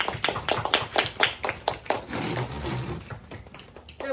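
Applause for award recipients at a school honor ceremony, a crowd clapping steadily in a burst of sharp, fairly close hand claps that thins and fades toward the end.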